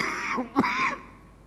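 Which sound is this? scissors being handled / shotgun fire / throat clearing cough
throat clearing cough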